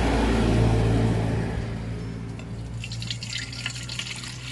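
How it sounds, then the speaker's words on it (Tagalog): Soaking water drains off rice being readied for a rice cake, a steady trickle and drip like a running tap that fades slightly after the first second and continues alone. "yung tubig niya ay i-drain natin. Tapos itatapon natin yung tubig."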